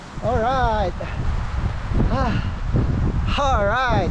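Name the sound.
strong wind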